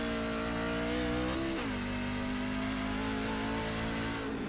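European Sportsman race car engine at a Silverado 250 round, holding a loud, steady high-revving drone that dips sharply in pitch midway, then drones on and fades near the end.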